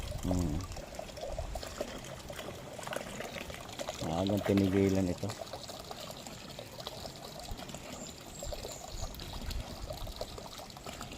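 Water pours out steadily for watering plants, a continuous splashing trickle running under close conversation between people.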